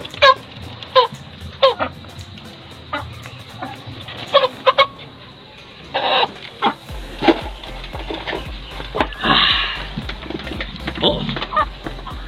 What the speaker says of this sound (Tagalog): Yan po yung aming mga alagang manok.